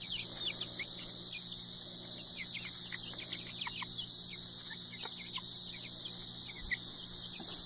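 Soft clucks and chirpy peeps from young Speckled Sussex chickens, including a cockerel, come scattered over a steady high insect chorus, fairly quiet with no talking.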